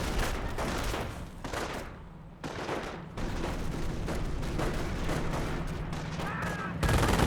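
Battle gunfire in the World War II strategy game Company of Heroes rattles in sustained overlapping volleys at middle distance, with brief gaps and an abrupt louder burst near the end, while a faint game voice speaks.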